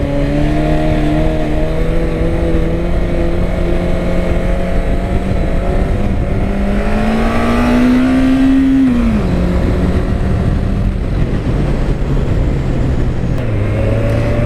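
A Honda CB1100 motorcycle engine drones loudly and continuously nearby, its pitch climbing into a rev around the middle before dropping back, with tire-burning wheelie action and no talking.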